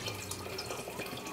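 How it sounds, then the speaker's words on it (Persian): Hot water poured over lamb meat in a clay pot for an Afghan chainaki stew: a continuous, close splashing and trickling of liquid with a steady level throughout. "وقت رسیده که من یک مقدار آب داغ دا بالای گوشت اضافه میکنم"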